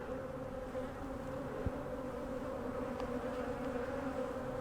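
Honeybees buzz steadily around an open hive during a swarm-prevention inspection, a dense continuous hum close to the listener with no talking, one brief sharp knock partway through.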